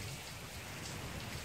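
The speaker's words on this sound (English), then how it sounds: "And the sea, but it's raining here, tropical season." Tropical rain falling by a seaside infinity pool, a steady dense hiss of drops on surfaces, moderately quiet and continuous with no voices.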